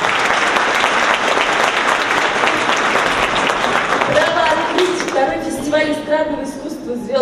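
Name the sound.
audience applause at a festival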